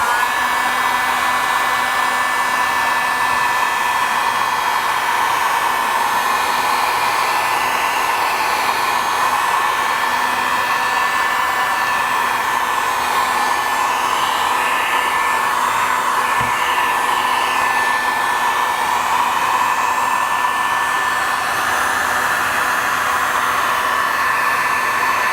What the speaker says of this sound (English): due to the heat that's being put out by this heat gun